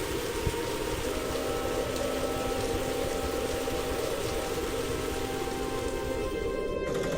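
Steady rain falling in an even, hissing wash on surfaces, constant and fairly soft throughout, with no voices and nothing else standing out.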